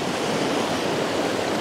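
A forest creek flowing among trees, a steady broadband rush of moving water that stays close and even throughout, with no voices over it.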